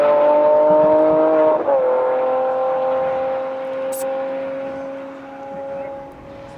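A big V12 supercar launches and pulls hard in open desert, its loud, sustained engine note rising steadily, briefly breaking at a gear shift, then holding strong and close.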